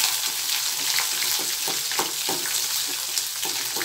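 Curry leaves and green chillies frying in hot oil for a tomato gojju, a steady close sizzle and crackle with small pops throughout, no voices.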